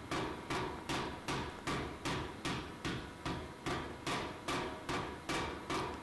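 A power hammer forges a steel bar down for an Anglo-Saxon adze, a loud regular run of about a dozen heavy blows close by, evenly spaced at roughly two per second, no voices.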